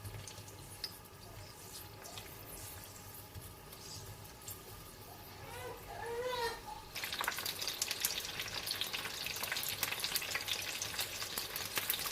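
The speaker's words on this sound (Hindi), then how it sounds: "इसको फ्राई करना शुरू करते हैं आहिस्ता आहिस्ता।" Chicken spring rolls fry slowly in oil, giving a soft, continuous sizzle that swells noticeably louder and brighter partway through, with no voices.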